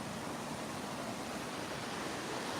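Waterfall on a salmon creek in Ketchikan, Alaska, giving a steady, dense roar of falling water that holds an even level throughout, with no voices.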